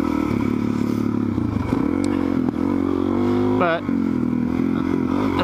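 A supermoto motorcycle revs and rides on dirt, its engine loud and close with rising and falling pitch and some scraping clatter, while someone speaks briefly over it.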